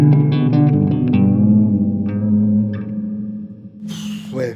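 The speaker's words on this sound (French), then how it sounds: "moi j'adore la reverb à ressort" A Jack White–designed Anasounds La Grotte spring reverb pedal on guitar, with picked notes trailing into a long, splashy decaying wash, followed by a brief bright noisy burst.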